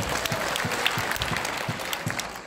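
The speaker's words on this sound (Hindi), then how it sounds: "उनके लिए एक जोरदार तालियां दे दीजिए" Audience applause at a festival gathering, a steady continuous wash of clapping from a crowd, moderately distant and even in loudness throughout.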